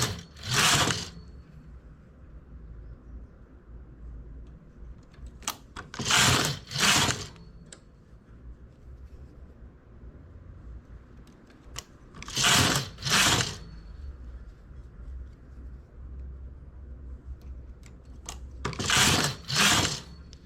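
A knitting machine carriage sweeping across the finishing row on the reverse side of a knit, loud whirring passes coming in pairs every few seconds with quiet gaps between, close by.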